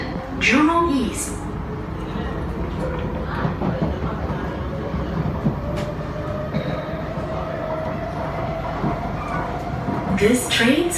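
Singapore MRT train running toward Jurong East, a steady rumble of wheels on rail with faint clicks, heard from inside the carriage while recorded announcements play over it.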